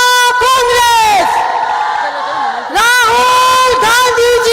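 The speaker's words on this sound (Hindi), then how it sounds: "हम सब जोरदार तालियों से जय जयकार करके इस पुस्तक का अनावरण करेंगे।" A crowd at a Congress party book unveiling with Rahul Gandhi roars loud, chant-like cheers and whoops in unison, with a short lull before the shouting swells again.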